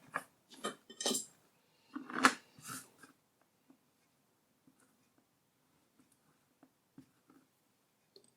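A lino cutter gouges through a linocut block with a few quick scraping, crackly strokes at close range, followed by quiet stretches broken by small faint taps and ticks.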